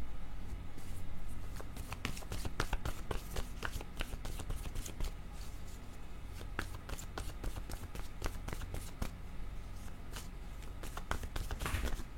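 Tarot cards being shuffled and handled up close, a steady stream of quick riffling flicks and soft slaps running throughout at a low level.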